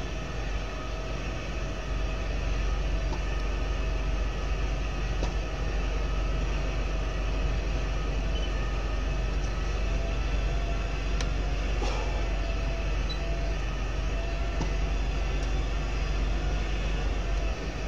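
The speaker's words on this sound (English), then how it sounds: "Got a train going through the trees." A train rolls through trees in Farming Simulator 2015, heard as a constant broad rumbling roar that stays even and unbroken throughout, with no talking over it.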